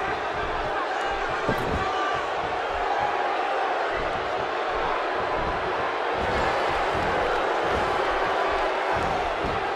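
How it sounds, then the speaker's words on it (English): Arena crowd in the WWE 2K16 wrestling game, a steady loud buzzing murmur with scattered bumps, continuous throughout. "The crowd is buzzing."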